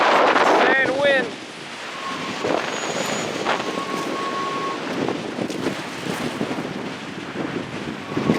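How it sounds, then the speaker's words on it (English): Strong wind buffets the microphone at Craters of the Moon, a steady loud rushing roar with gusty swells, while a brief voice and faint bird calls come through near the start. "Insane wind."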